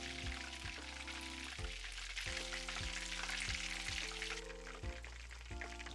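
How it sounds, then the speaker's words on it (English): Chicken karaage deep frying in oil at about 160 degrees, giving a steady close sizzle and bubbling that runs without a break. A low rhythmic hum pulses beneath it, and no one speaks. "First, I deep fry them 160 degrees for about 2 minutes."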